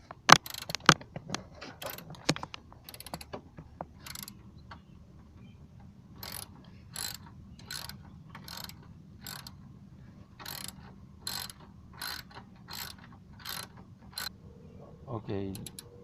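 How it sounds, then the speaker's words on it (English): A 12 mm socket wrench ratchets cover bolts loose under a 2005 Hyundai Santa Fe, with quick clicking runs and a steady series of sharp ticks, faint and close over a quiet low hum. "It requires 8 bolts to be removed, and the socket wrench I'm using is about 12 millimeters."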